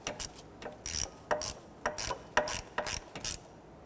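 Four bolts being gently snugged down by hand with a ratchet on a plastic cover, giving repeated close, crisp clicking bursts in a steady rhythm with short pauses between strokes.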